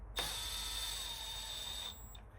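Power tool spinning a bolt into a threaded hole during timing chain work, a single continuous high whine of under two seconds that starts abruptly and stops cleanly, close and fairly quiet.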